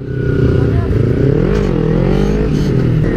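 Engine of a 250cc 2011 Kawasaki Ninja 250 motorcycle on a test ride, a steady loud drone with slight rise and fall in revs, running continuously throughout.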